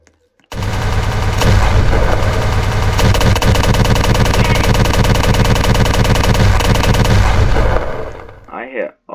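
Continuous rapid gunfire from the Hex Spitter gun in a video game, a loud sustained burst of rattling shots lasting several seconds before cutting off, close and dominant.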